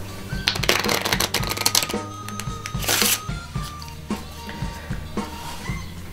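Playing cards from a Paradigm deck are riffle-shuffled up close on a card mat, crisp rapid flutters in a few bursts with small taps and clicks between.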